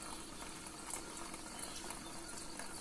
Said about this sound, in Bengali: পাহাড়ের ওপর থেকে জলটা পড়ছে